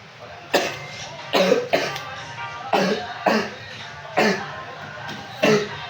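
A person coughs repeatedly and nearby, about seven sharp, loud bursts in uneven clusters over a few seconds.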